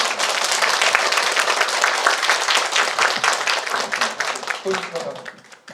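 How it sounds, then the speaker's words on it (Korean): Parents and students at a school career-information session give the principal a big welcoming round of applause, dense and steady clapping that gradually thins and fades near the end. "우리 송현석 교장 선생님 큰 박수로 환영하시겠습니다."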